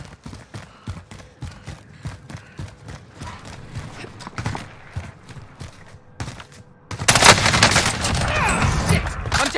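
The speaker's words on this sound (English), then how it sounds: "I'm taking fire!" Gunfire in the video game Call of Duty: Warzone, rapid bursts of sharp shots through the first stretch, then a dense loud roar of fire and action near the end.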